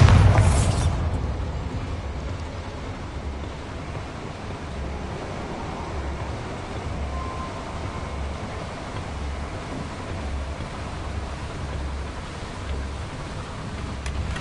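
A Bombarda blasting spell goes off in Hogwarts Legacy, a sharp explosive burst at the very start that fades into a long, low, steady rumble of ambient noise.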